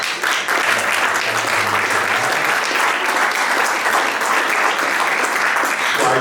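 A church congregation at a seminar in Belgium breaks into loud, sustained applause, a dense, even wash of clapping that fills the space almost from the start and runs without a break.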